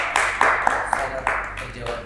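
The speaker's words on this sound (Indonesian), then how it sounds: "tepuk tangan dulu untuk Kang Demi Hamzah" An audience at a stage event claps for Kang Demi Hamzah with a handful of scattered, fairly close claps, while voices carry on over them.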